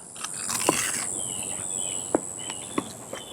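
Crisp crunching bites into homemade kale chips seasoned with lemon, a few sharp isolated crunches spaced irregularly over a steady background hiss, close and fairly quiet, with no talking.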